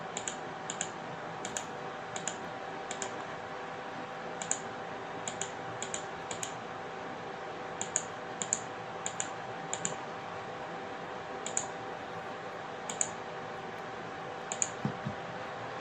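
Scattered mouse clicks and keyboard taps while drafting a four-bedroom bungalow roof plan in Revit on a computer, sharp and close. The clicks come singly and in short bursts over a faint steady hum.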